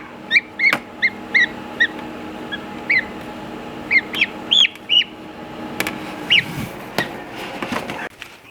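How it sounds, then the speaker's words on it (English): Newly hatched baby turkey poults cheeping in short, high, thin peeps at irregular intervals, close by over a faint low background hum, with no talking. "these are our baby turkeys who just had like yesterday"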